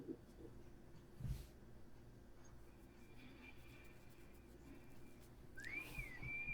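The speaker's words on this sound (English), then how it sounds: "They have that whistling in the wind" Whistling wind in a Cowboy Bebop episode, a thin rising-and-falling tone that swoops up near the end over a low, quiet background rumble, with no talk.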